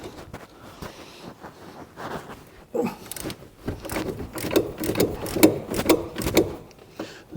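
A socket wrench winds a nut off the shock absorber of a Corsa C, giving a run of repeated ratcheting clicks and metallic turning noises, close and fairly loud, with no talk over them.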